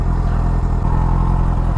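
A 2005 Yamaha FZ6 motorcycle engine idles steadily close by, a continuous low, even throb with a slight mechanical clatter and no revving.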